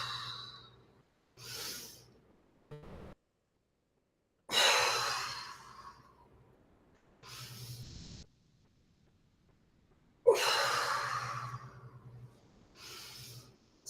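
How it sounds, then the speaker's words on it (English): Slow, deliberate breaths in and out during a qigong exercise, several long airy inhales and exhales separated by silence, close and clear with no talking. "Inhaling and exhaling."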